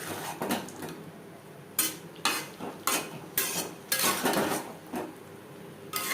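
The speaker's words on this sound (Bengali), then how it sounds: "নুনের সাথে মাছ বেশ ভালো করে মিক্স করে দেব" Fried mourola fish being stirred with salt in a pan, giving a series of sharp scraping and clinking strokes of a utensil against the metal, spaced irregularly over a low kitchen background.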